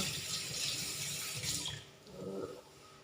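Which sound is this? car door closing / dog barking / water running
water running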